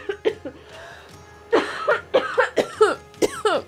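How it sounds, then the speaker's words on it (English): Harsh coughing from liquid caught in the throat, a string of about eight sharp bursts, loud and close, with no talking over it. "I want to run somewhere so I can cough."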